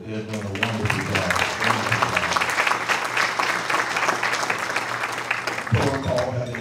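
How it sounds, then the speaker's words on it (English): Audience applause at a black-tie gala, loud, dense clapping that fills most of the clip, with a voice speaking briefly at the start and again as the applause fades near the end. "I wish you would just, with me, just applaud that group."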